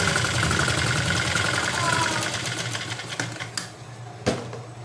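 A sewing machine runs a palazzo trouser seam in a fast, steady mechanical whir that slows and stops, followed by a few sharp clicks and a louder clack near the end.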